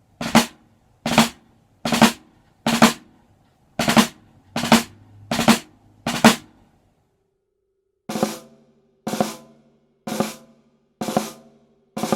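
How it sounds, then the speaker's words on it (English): Short percussive snare drum strokes in a steady sequence, about seven sharp drag rudiment hits with a brief pause, then five more double-tap drag strikes, each a quick drag roll into an accent. "So let me play the drag, then sort of double tap drag."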